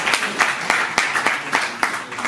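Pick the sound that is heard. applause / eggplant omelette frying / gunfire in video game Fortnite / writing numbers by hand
applause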